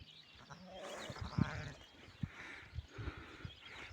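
A newborn lamb just minutes old and a ewe bleat close by in short, wavering calls, with some rustling and shuffling hooves around them.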